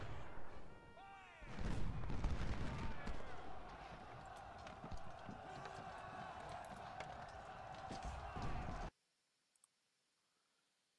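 Infantry units fire a musket volley in a Civil War strategy game set around Henry Hill. A loud, crackling burst sits over busy battlefield ambience before the sound cuts abruptly to near silence.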